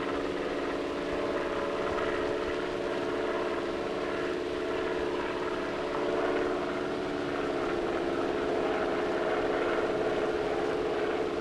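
A small propeller airplane flies high up into a cloud, its engine making a steady, loud droning hum that stays even and unbroken throughout.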